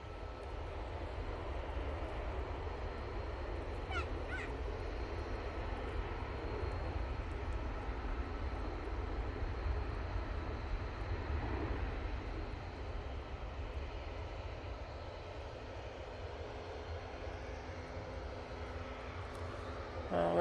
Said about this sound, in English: there's the Ryanair from Gdansk, just touching down.